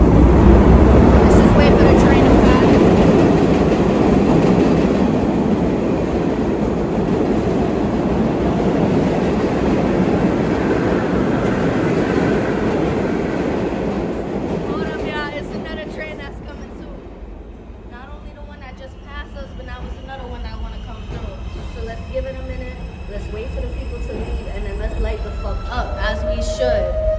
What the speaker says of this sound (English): Let's just wait for the train to pass.